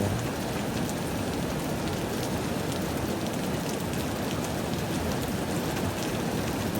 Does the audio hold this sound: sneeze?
no